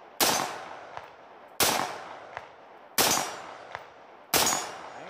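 Four loud gunshots fired at targets come at a steady pace about 1.4 seconds apart, each followed by a faint metallic ping from a struck target.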